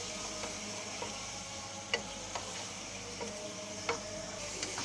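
Chicken liver frying in a pan with garlic-ginger paste gives a steady, close sizzle, with occasional sharp clicks and scrapes of stirring scattered through it and no talking.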